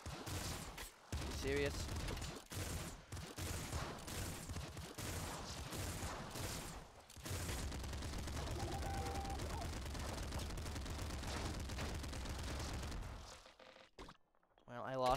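Rapid machine gun fire in the top-down video game Nuclear Throne, dense continuous bursts of shots with brief pauses, mixed with game effects and a brief spoken remark.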